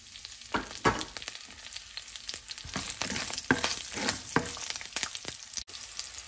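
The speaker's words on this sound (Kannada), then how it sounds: "ಕಡಲೆ ಬೀಜ ಸ್ವಲ್ಪ ಫ್ರೈ ಆದಮೇಲೆ ಇದಕ್ಕೆ ಹಸಿಮೆಣಸಿನ್ಕಾಯಿನೂ 1-2 ಒಣಗಿದ ಮೆಣಸಿನ್ಕಾಯಿ ಹಾಕ್ತಾಯಿದ್ದೀನಿ" Peanuts with green and dried chilies fry in a pan for coriander puliyogare, a steady close sizzle broken by scattered pops and crackles and occasional stirring scrapes.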